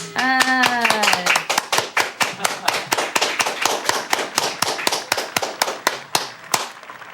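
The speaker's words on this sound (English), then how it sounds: "Everybody together. Clap hand." A group claps together in a steady, even rhythm, sharp hand claps repeating for several seconds after a brief voice at the start.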